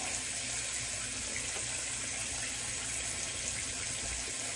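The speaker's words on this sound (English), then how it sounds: "so I just rinse the brush out and then give it a few flicks." A shaving brush rinsed under a running tap, with a steady, close, even rush of water splashing into a sink throughout and no talking.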